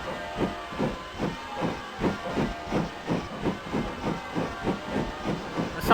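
Simulated steam locomotive from the OpenRails train game on the Swanage Railway, chuffing and hissing in a fast regular rhythm of roughly three beats per second, steady and close, with no voices.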